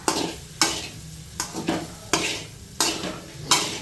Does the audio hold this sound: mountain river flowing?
no